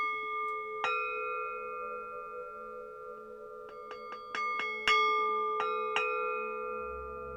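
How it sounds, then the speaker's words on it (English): Tibetan temple bowls ring in a sustained shimmering hum, struck repeatedly so that several clear metallic tones overlap and decay, moderately soft and close. "Then over here we have the Tibetan temple bowls,"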